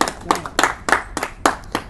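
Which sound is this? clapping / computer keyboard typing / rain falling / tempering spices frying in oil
clapping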